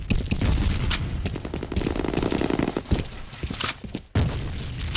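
Dense automatic gunfire with heavy booms from a grenade blast in the first-person shooter F.E.A.R., loud and continuous, with a sharp break near the end before the firing resumes.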